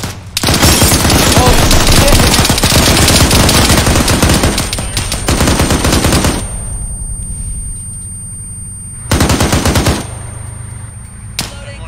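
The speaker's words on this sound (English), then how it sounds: "I hear bullets from the right." Sustained bursts of automatic gunfire in the Arma 3 military game, loud and rapid, continuing for about six seconds and then returning in shorter bursts after a pause, with a few isolated shots near the end.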